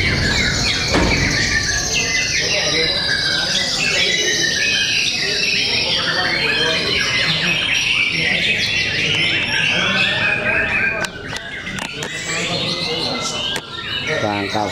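Magpie robins (murai) singing at a songbird contest, dense overlapping high whistles, trills and squeals from several birds, loud and continuous, with crowd chatter underneath.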